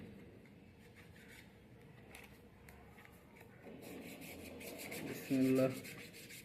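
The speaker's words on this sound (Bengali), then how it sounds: "আর এইটা হচ্ছে আমাদের সেই স্ক্র্যাচ কার্ড। এখন এইটা ঘষবো।" Scratch card being scratched by hand, a soft close rubbing and scraping that rises toward the end, with a brief louder scrape near the finish and a short spoken word at the start.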